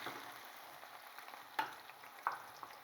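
Chopped onion hitting hot oil and spices in a pan for an aloo chicken curry, with a soft steady sizzle and a couple of sharper stirring clicks, heard alone at low level.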